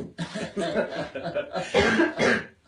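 Repeated coughing from a person with a cold, in a rapid series of bursts, close to the microphone, continuing throughout with no clear pauses.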